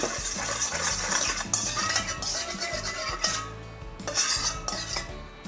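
A spoon stirs eggplant salad dressing ingredients in a bowl, with steady, busy clinking and scraping of metal against the dish that continues close and fairly loud throughout, with no talking.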